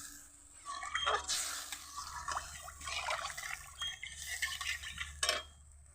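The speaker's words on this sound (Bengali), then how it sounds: "জলটা ভালো করে নেড়ে চেড়ে দেই" Water being stirred into a pan of tilapia fish curry in a home kitchen, with soft swishing and scraping, small liquid splashes and occasional light metallic clinks of the spoon against the pan, close and fairly quiet.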